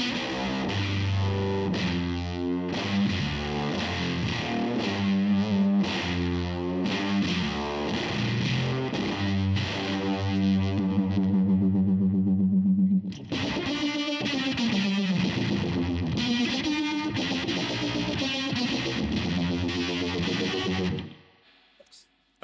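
Electric guitar with humbucker pickups played through a Pedal Pawn distortion effect pedal, thick saturated chords and riffs ringing continuously for about twenty seconds, then abruptly cut to silence near the end.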